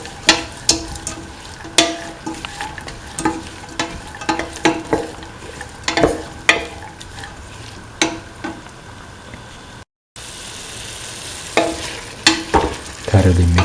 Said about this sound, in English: Thoroughly mix the green peas with the rest of the mixture.